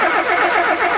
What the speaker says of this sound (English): Ben, if you want to crank for me. There we go. We have switching.